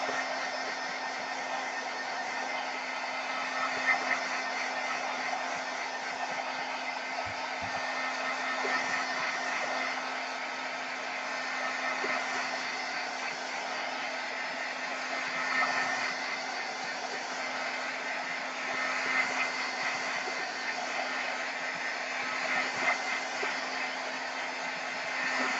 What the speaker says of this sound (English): I'm going to blow this dry a little bit.